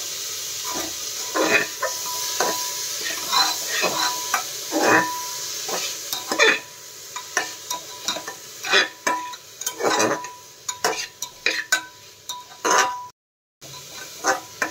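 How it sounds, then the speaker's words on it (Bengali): Chicken stew being stirred with salt in a pan: repeated spoon scrapes and clinks against the pan over a low sizzle, irregular rhythm, close and fairly loud, with a brief drop out near the end. "লবণ দিয়ে একটু ভালো করে এটাকে নাড়াচাড়া করে নিয়ে"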